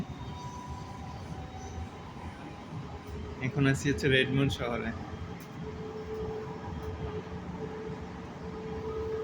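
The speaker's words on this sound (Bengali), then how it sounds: "ট্রেনে করে পাশের শহরে যাচ্ছি" Steady rumble of a moving train carriage heading toward Bellevue, with a brief burst of squealing wheels, while a person speaks over the noise.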